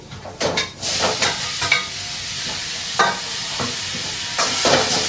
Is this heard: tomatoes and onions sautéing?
yes